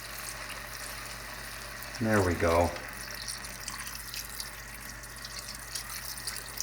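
Water poured into a pot of Hungarian goulash, a steady close stream and splash filling the pot throughout, with a brief spoken comment partway through.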